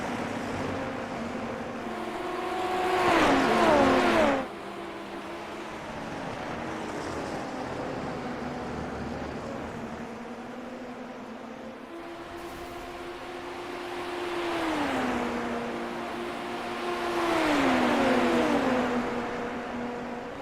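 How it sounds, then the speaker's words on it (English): Formula race cars running down the front stretch at Road America, engines rising and falling in pitch as they pass, heard as two waves of sustained whine at moderate distance over steady background roar. "DeFabus and Di Gregorio working hard here down the front stretch, trying to reel in Thiago Spencer"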